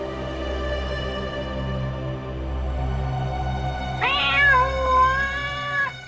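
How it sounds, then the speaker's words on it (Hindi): A cat meows twice, a drawn-out nearby cry, over a low steady hum and background music. "ये बिल्ली की आवाज कहां से आ रही है?"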